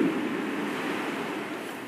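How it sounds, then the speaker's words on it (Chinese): A steady, broad rush of flowing water fills a cave passage, loud and continuous for the whole moment with no voices. "这前面能听到哗哗的流水声了"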